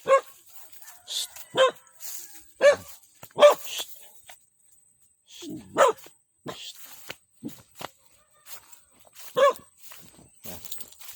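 A dog barks repeatedly at a rural caretaker's plot, sharp single and double barks spread over several seconds, with footsteps, light movement and a hushing voice between them.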